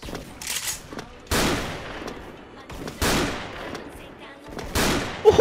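Four loud shots from a Barrett M82 sniper rifle in the online shooter Special Force, each a sharp crack with a long reverberant tail, spaced roughly one and a half seconds apart over faint game ambience.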